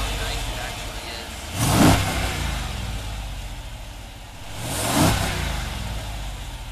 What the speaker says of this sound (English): the moment that you have all been waiting for is just to hear the engine and just how nice it actually is